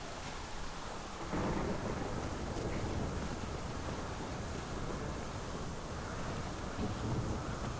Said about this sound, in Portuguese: tá chovendo tão alto que eu mal tô escutando o áudio do jogo